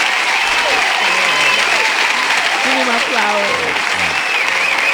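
An audience claps steadily in dense, sustained applause throughout, loud and close, while a performer speaks briefly over it.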